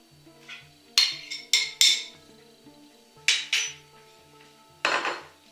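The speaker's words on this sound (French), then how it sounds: "je vais mélanger le maïs." A spoon mixes corn and eggs in a bowl for a tropical salad, giving sharp clinks and scraping knocks against the bowl in short clusters, close and with no talk.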